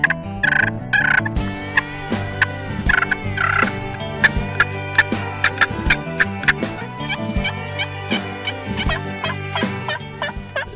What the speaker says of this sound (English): turkeys have different sounds: yelp, cluck, purr, gobble.